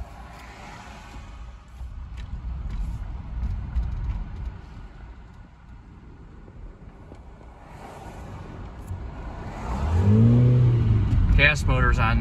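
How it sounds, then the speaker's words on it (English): A 2013 Toyota Prius with its gas engine running while driving: a low, steady engine drone with rising and falling intensity, swelling louder toward the end, with brief mechanical whines near the close. "Gas motor's on now, you can hear it,"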